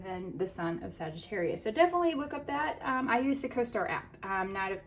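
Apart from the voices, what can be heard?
No everyday noises stand out.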